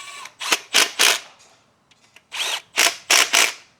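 A power tool tightens bolts on a Nissan 350Z transmission in a series of loud whirring bursts: three or four short runs, a brief pause, then four more in quick succession, up close and without talk.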